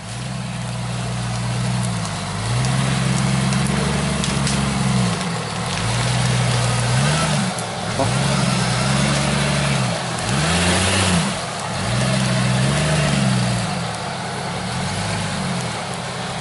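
A Jeep Cherokee XJ with a 3-inch lift revs off-road in the jungle, its engine surging and easing in repeated loud throttle bursts of rising and falling pitch.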